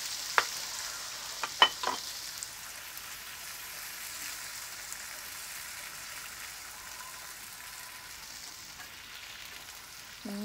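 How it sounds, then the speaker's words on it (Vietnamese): Tomatoes stir-frying with golden garlic in a pan, a soft steady sizzle with a few sharp utensil clacks near the start, then an even hiss on its own. "Mình sẽ xào cho nó mát cà chua này đi."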